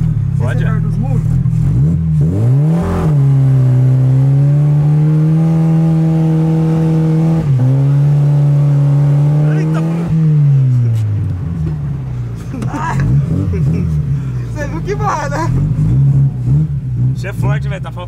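A Chevrolet Chevette engine on a race track, revving loud and close, its pitch climbing then holding steady through long pulls with a brief lift between them, voices talking over it near the end.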